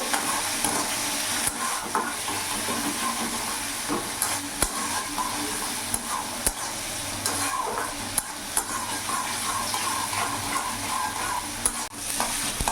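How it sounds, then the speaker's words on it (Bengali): Chopped onion and tomato sizzle in hot oil in a pan for a catla fish and pea curry, a continuous close hiss broken by regular spoon stirs and scrapes. "এরই মধ্যে টমেটো কুচিটা দিয়ে দিলাম"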